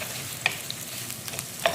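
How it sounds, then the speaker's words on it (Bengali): Onions and chillies fry in hot oil with a constant close crackling sizzle and a few small sharp pops. "পেঁয়াজটা একটু লাল লাল করে ভাজিয়ে নেব।"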